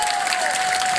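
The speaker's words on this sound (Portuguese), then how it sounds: "uma salva de palmas" Loud, dense crowd applause at an outdoor São Pedro festival show in Câmara de Lobos, a brief continuous burst of many hands clapping together.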